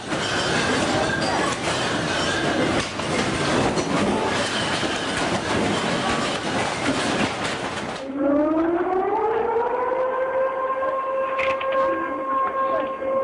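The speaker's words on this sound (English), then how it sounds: "only to hear the sirens warning of the impending tsunami" A loud rumbling train gives way to a wailing tsunami warning siren after an earthquake; the siren rises and holds a steady tone, sounding distant and outdoors.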